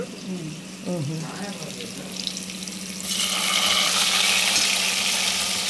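Fish curry ingredients sizzle in a pan at home, a steady crackling hiss that jumps louder midway as more is added, with people talking over the cooking at first.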